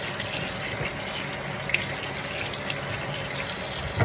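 Tap water runs steadily over a plantain being rinsed at a kitchen sink while making Dominican tres golpes, a constant close gushing stream with no talk.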